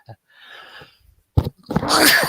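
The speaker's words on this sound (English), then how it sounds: "Had a real sneeze there." A single loud sneeze bursts out, followed by a brief breathy exhale; faint rustling and a soft murmur come before it.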